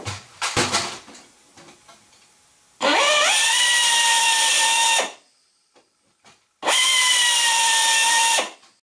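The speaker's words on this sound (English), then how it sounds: "And that's all you want to do for the number 40 machine countersink." A drill fitted with a number 40 machine countersink cuts into aircraft skin on an RV-10 vertical stabilizer. Two loud, steady whining bursts of about two seconds each follow a few sharp clicks, with quiet pauses between them.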